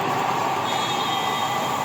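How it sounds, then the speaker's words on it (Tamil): A Delhi airport metro train running, giving a steady, loud rolling rumble with a high whine and faint wheel hiss, heard from on board with no talking. "அது டெல்லி மெட்ரோன்னு சொன்னாங்க. ஏர்போர்ட் மெட்ரோ இவ்வளோ காலியாக இருக்குது."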